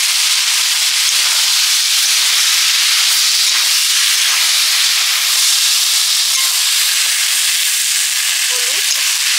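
Flower stalks drop into hot oil already crackling with dried chilli, cumin and mustard seeds, giving a loud, steady, close sizzle that hisses without a break.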